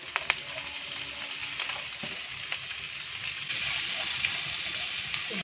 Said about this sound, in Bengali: এটাকে দিয়ে 1 মিনিট মতন হাই ফ্লেমে ফ্রাই করে নেব